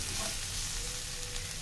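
Paneer and vegetables are stir-fried and tossed together in a pan, giving a steady, close frying sizzle throughout with no talking.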